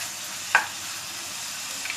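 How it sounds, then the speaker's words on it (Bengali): Chinese fried rice stir-fries with fish sauce and sugar, giving a faint, even sizzling hiss with one soft tap of a utensil partway through. "ফিশ সস দিচ্ছি, চিনি দিচ্ছি পরিমাণ মতো 1 টেবিল চামচ"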